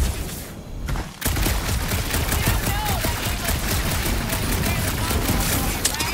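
Rapid gunfire from Marvel's Guardians of the Galaxy rattles continuously and loudly after a short quieter opening, with voices under the shooting.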